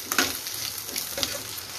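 Noodles frying in a pan at home, a soft steady sizzle with faint crackles and the occasional light scrape of stirring, quiet and close, with no talking.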